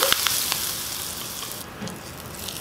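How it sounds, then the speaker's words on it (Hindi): A hot tadka of oil with asafoetida is poured into dal batter, giving a bright sizzle that flares at the start and fades to a soft, steady hiss, with no speech. "ये जो गर्मा गर्म तड़का है वो हम डाल देंगे बैटर के अंदर।"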